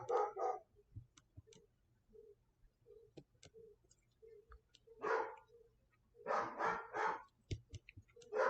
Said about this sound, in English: Can y'all hear my dog?